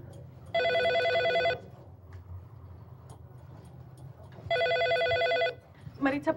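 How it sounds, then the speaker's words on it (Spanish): A telephone rings twice in even, sustained bursts separated by a pause, clear and close, with a voice starting just after the second ring. "Maritza, por favor, contéstame ese teléfono."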